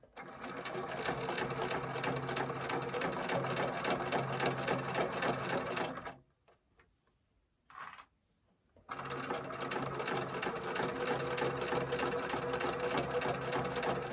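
A sewing machine stitches a fabric bunny bag in a continuous close hum that stops briefly around a curve, gives a short burst, then runs steadily again.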